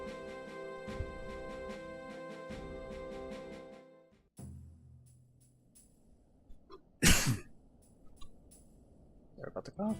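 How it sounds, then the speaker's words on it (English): A single sharp, explosive cough or sneeze from a nearby person, cutting in after a stretch of sustained video game music and tones from Final Fantasy XI. "Sorry about the cough."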